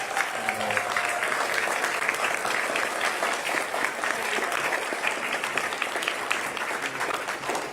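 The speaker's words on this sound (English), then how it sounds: "I want another round of applause for Jeff for standing up today" Sustained audience applause fills a Democratic primary candidate forum, a dense, steady wash of clapping from many hands at even loudness throughout, with a few faint voices mixed in underneath.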